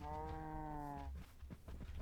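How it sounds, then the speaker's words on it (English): Minecraft cows let out a long, harmonic moo at close range, lasting about a second, followed by short low thumps and game noises. "So now there are 6 cows in there."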